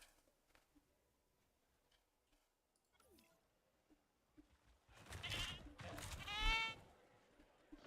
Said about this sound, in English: Somewhere in the trees there's a goat.